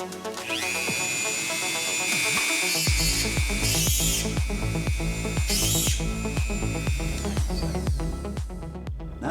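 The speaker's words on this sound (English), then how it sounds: "I bought myself a little drill press from my Dremel" A small Dremel bench drill press whines steadily at high pitch while repeated rhythmic knocking and thumps from the bit biting into material run throughout, close by.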